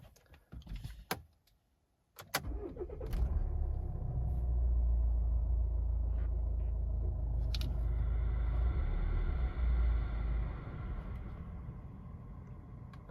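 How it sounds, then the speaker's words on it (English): A Volvo XC60 engine after a fuel filter replacement, cranking briefly with a few clicks and then catching into a steady low rumble that holds for several seconds before dropping away, faint and close. "So we'll just start the car and give it some revs"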